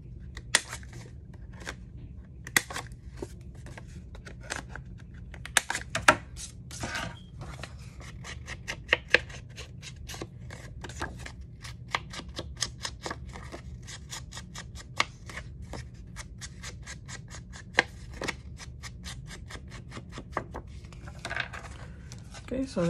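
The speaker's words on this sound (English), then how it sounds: "Let me just round the corners for this." Corner rounder punching the corners of paper pieces for an envelope flipbook, a run of sharp, close clicks and snaps at irregular intervals over a low background hum.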